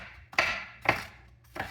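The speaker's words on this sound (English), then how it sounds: "we're going to chop up our little shallot" A knife chops through a small shallot on a cutting board, three sharp separate thuds spaced about half a second apart, close and clear with no talk.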